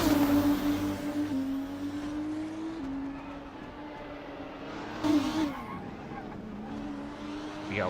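Formula race car engine in a racing video game, a steady high-pitched whine holding pitch with small shifts, then a sharp drop and rise as it brakes and accelerates again, with faint tire scrubbing behind it.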